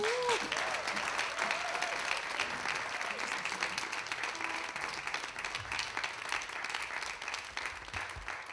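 Audience applause welcomes a singer onto a live outdoor stage in Ogre, a steady, dense wash of clapping from a sizable crowd that holds evenly throughout, with a few faint voices beneath.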